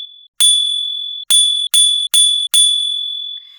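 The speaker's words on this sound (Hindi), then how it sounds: "कि जितने भी धातु होते हैं सबको अगर चोट मारे, जैसे कि ऐसे टन," A metal object is struck five times, each hit giving a bright, clear ringing tone that sustains and decays, with a short gap before each new strike and a faint higher ring trailing off at the end.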